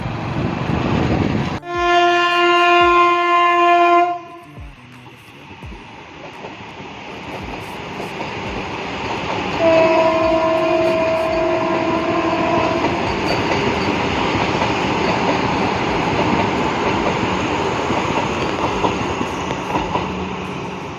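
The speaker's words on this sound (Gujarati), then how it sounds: "વંદે ભારત ગઈ." A Vande Bharat Express train sounds a long, loud horn blast up close, then rushes past with a steady heavy rumble and rattling wheels that fills the rest of the passage.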